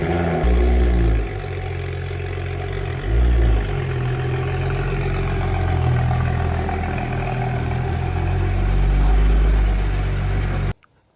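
A BMW 335 with a catless downpipe rolls into a garage, its engine rumbling loudly at close range with a couple of brief revs early on, then cutting off at the end.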